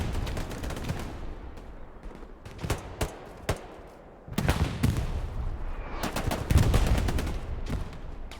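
Machine gun suppressive fire in a competitive match of a video game, rattling in sharp bursts and volleys against a busy background, loudest in a dense stretch near the end.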